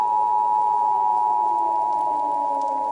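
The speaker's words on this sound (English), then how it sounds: "his phone erupts in the horrifying sound of the national emergency tone" A national emergency alert blares from a phone, a loud, piercing steady tone held without a break, with a fainter lower tone wavering beneath it.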